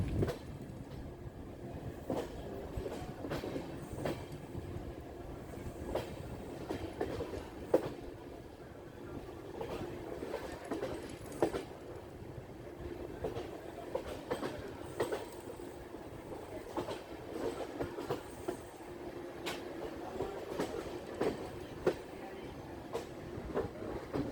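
Passenger train 11097 Pune-Ernakulam rolls along the rails in a steady, moderate rumble, with repeated sharp clicks and knocks from the wheels over rail joints throughout.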